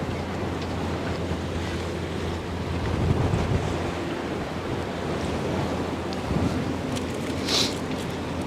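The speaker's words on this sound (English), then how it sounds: "Wind is horrible now." Wind buffets the microphone by the Westerschelde waterway on a chilly day, a steady rushing roar with gusts swelling and easing, mixed with distant water wash and no talking.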